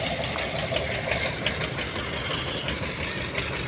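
A trawler boat's engine runs steadily, a loud, continuous rumbling drone with a knocking texture and no voices.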